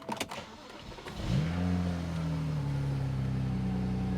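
A BMW 335i with a newly installed battery cranks briefly, then catches and settles into a steady, close idle with a low, even hum that holds to the end.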